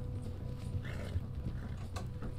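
Horse in Red Dead Online whinnying amid a steady patter of hooves, with low game ambience underneath; no voices.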